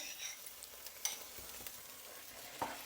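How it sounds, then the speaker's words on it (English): Broccoli cooks in sauce in a pan with a soft, steady sizzle, broken by occasional light clicks and scrapes of stirring. "I'm going to just add some of that sauce to cook with the broccoli."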